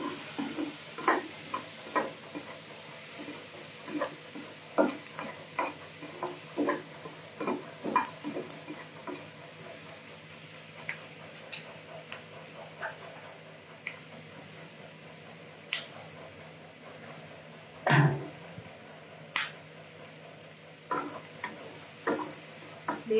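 Onions and green chillies sizzle in butter over a low flame, a soft steady frying hiss broken by frequent clicks and taps of a spoon stirring in the pan, close by, with no talk.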